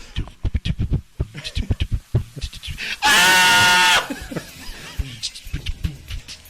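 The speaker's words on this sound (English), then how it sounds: "I'm going to put in those goats that sound like screaming people" A goat bleats like a screaming person: one loud, harsh, drawn-out cry of about a second, wedged between stretches of close conversational speech.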